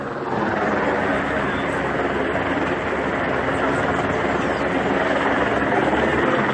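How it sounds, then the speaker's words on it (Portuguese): Helicopter flying overhead while filming the length of Copacabana beach during a street demonstration in Rio de Janeiro, a loud steady rotor drone that runs unbroken throughout. "Aqui em cima tem um helicóptero que está filmando e sendo obrigado a filmar a praia toda"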